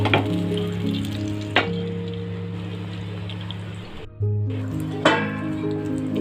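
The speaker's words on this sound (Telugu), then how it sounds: "ఇప్పుడు దీన్ని కొంచెం ప్యాన్లో ఆయిల్ వేసుకొని ఫ్రై చేద్దాం" Marinated paneer fries in hot oil in a pan, giving a steady close sizzle with a few sharp clinks of a utensil against the pan and a brief pause partway through.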